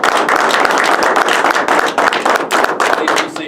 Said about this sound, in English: Let's give a round of applause for our newest Dirt Boys.